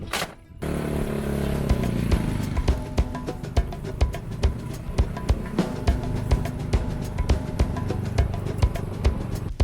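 A motorbike rides along a beach in Thailand, its engine droning loud and close with steady rhythmic thumps and rattles from the ride over rough ground.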